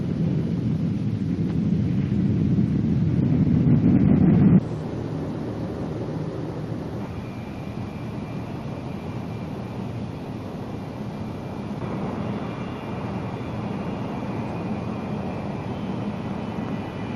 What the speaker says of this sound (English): the plane will fly off by itself